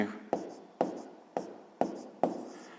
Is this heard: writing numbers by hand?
yes